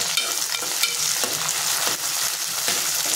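Onion and tomato frying in oil, a bright continuous sizzle close up with a spoon scraping and stirring through the pan in repeated strokes, no talking.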